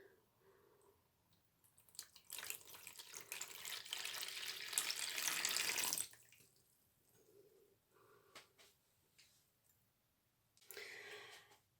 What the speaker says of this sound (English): Now let's add our water